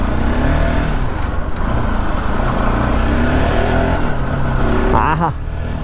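KTM Duke 200 BS3 motorcycle engine revving steadily while being ridden, a loud continuous drone with a rising rev sweep near the end.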